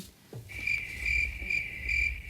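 A cricket chirps steadily in a high, continuous trill with slight pulsing, over a low background rumble.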